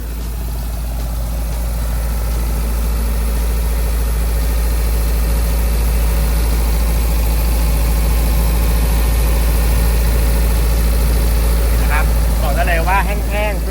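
A Kobelco SK135SR-2 excavator's Mitsubishi D04FR turbo diesel idles steadily and close, a smooth continuous low rumble with a faint squeal near the end.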